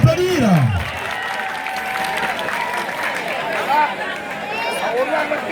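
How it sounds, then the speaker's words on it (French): Applause from the crowd at a school fair (kermesse) at a secondary school, clapping mixed with chatter and crowd noise, with some whistles or tonal sounds on top. "que je vous demande d'applaudir"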